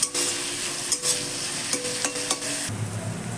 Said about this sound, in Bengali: এই সময় আমি দিয়ে দিচ্ছি কুচি করে রাখা রসুনগুলো আর কুচোনো টমেটোগুলো দিয়ে খুব ভালো করে মিশিয়ে নিচ্ছি